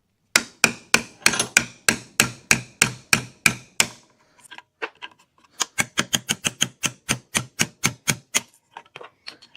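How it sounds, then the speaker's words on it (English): A hammer pounds a chisel into wood, cutting out a middle section. Sharp, even strikes ring out in a fast steady rhythm, pause briefly, then resume in a second quick series, close and clear. "Now grab a hammer and a chisel and just pound away at it till you have this whole middle section removed."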